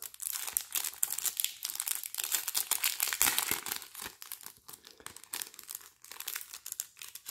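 A small plastic pouch of diamond painting supplies is crinkled and torn open close by, giving a continuous run of crisp, irregular crackling and rustling with no talk.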